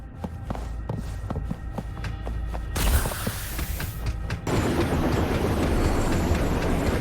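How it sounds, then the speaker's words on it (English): Rumbling mechanical rail noise with rhythmic clanks, swelling into a steady loud roar as a train rolls past in the video game Wuthering Waves. "A train?"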